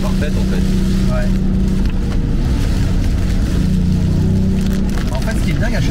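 Toyota Yaris GR Track Pack fitted with an Akrapovic exhaust without valves, engine running with a steady dense drone and rumble throughout, with people talking over it.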